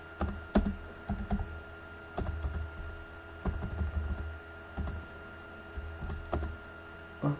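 Computer keyboard typing while a jQuery script is written, coming in short bursts of clicking keystrokes separated by brief pauses, close and fairly quiet over a steady low hum.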